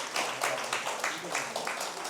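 Students in a classroom lecture give a brief round of applause for a classmate, the quiet, rhythmic clapping mixing with murmured voices.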